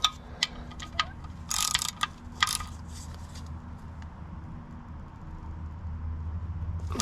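Ratchet clicking as drain bolts are tightened on a tractor's oil pan, a quiet run of short metallic ticks in the first few seconds that then gives way to a low steady background hum.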